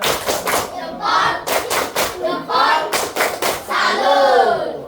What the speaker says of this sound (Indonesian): Kita kasih tepuk salut dulu.